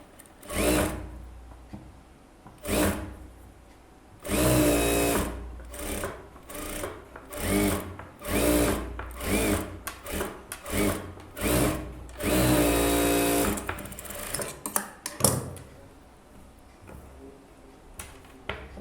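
A sewing machine stitches a blouse along a marked line in quick bursts of rapid mechanical chatter separated by short pauses. The sound is close and moderately loud.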